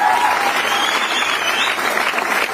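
Steady, dense applause from a large audience at a business meeting, filling the space evenly without pause, loud and close throughout.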